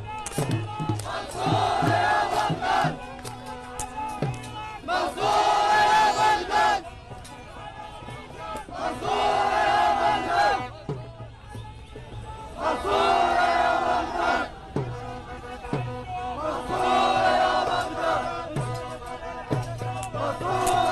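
Iraqi football fans at the Arabian Gulf Cup chanting slogans against Iran, loud rhythmic crowd chants rising in repeated waves with brief lulls between, a large mass of voices in an open stadium.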